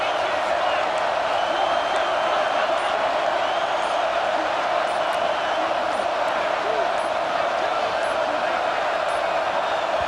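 A dense, steady roar from a large college football stadium crowd in the video game EA Sports College Football 26, on third and goal, fills the whole stretch, loud and continuous without breaks.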